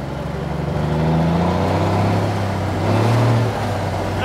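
Semi truck engine pulling away as the clutch is eased out, a loud low diesel drone that swells and rises in pitch, close and continuous with no voices.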